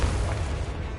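A Confringo blasting curse explodes in Hogwarts Legacy, a loud, dense, continuous roar of blast noise that fills the whole second without a break.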